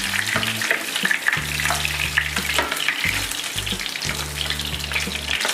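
Fish frying in hot oil in a home kitchen for an Assamese fish curry, a steady close sizzle with bursts of crackle throughout, a low hum running underneath.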